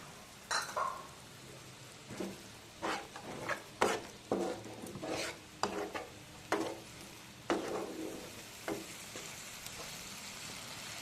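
Ground spice paste, loosened with the water it was ground in, cooking in a pan for a rohu fish curry, with repeated sharp scraping stirs and a soft sizzle underneath, fairly quiet and close.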